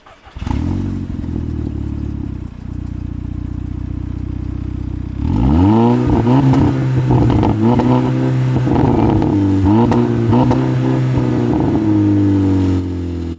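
A Cupra hot hatch engine idles loudly, then revs up hard several times with a rising roar and clattery exhaust, close by and alone.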